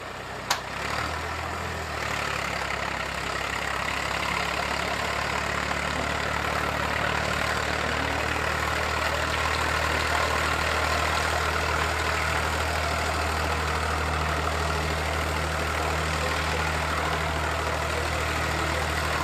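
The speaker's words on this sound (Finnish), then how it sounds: "Massey Ferguson 35, traktorilla vuosimalli 61." A 1961 Massey Ferguson 35 tractor idles steadily at a veteran tractor pulling contest, its low engine hum and drone holding constant and fairly close, with no talk over it.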